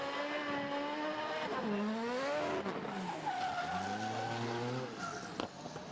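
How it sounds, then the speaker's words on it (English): Formula Drift cars slide toward a wall at Okuibuki Motorpark in Japan, with engines revving in rising and falling wails and tires squealing in long sustained screeches, loud and steady throughout. "there's a wall right there that they're drifting into"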